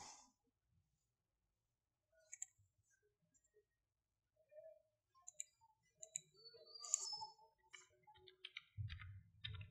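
Clicks from a computer mouse in quiet surroundings, with several light, sharp taps scattered across the stretch and a brief low thump near the end.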